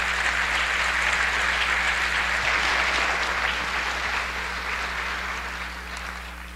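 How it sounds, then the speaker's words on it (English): A large audience in a borough hall applauds a late local hero at a State of the Borough address, a dense, steady wash of clapping that holds strong and then gradually thins and fades toward the end. "Give Pat Toro a round of applause."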